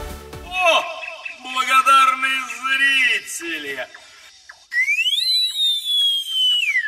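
A person whistles a melodic tune, first mixed with singing-like voiced sounds, then clear rising and falling whistled notes after a brief pause.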